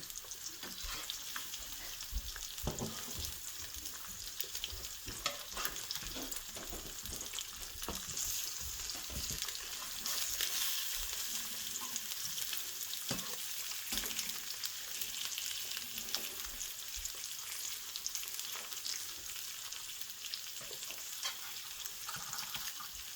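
Eggs frying steadily in a pan on a stovetop turned down to medium heat, a continuous close crackling sizzle with small pops and spatters throughout, no talking.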